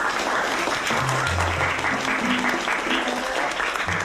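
Applause for two students in a classroom scene of a Hindi-dubbed drama, a steady, dense patter of clapping from the group, with low music running underneath.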